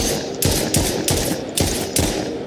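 Gunfire in a UE4 video game aimed at a bot, heard as a string of about seven sharp, evenly spaced shots, each clipped and punchy, with no talking over them.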